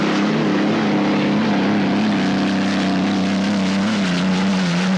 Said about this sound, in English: George Johnson also in a Lucero Design and Build Hall with the Merlin engines